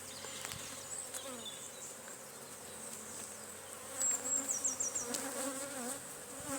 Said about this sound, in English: nice calm bees, like the calm bees.